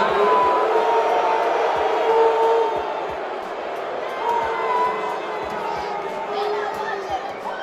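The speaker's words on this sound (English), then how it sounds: "a fan that was in attendance took to Twitter to post this video showing off the crowd noise" Wrestling arena crowd at a live Raw broadcast during Dominik Mysterio's appearance, a steady roar of many voices with chanting and shouting, dense and sustained, slightly easing midway.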